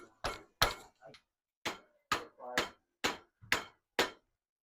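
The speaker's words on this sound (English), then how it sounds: "Hammering on a 3D printed bushing." Sharp hammer strikes drive a 3D-printed bushing into a 1976 Toyota Celica's suspension, about nine in total at an uneven pace, each hit ringing briefly before stopping, close and distinct with silence between.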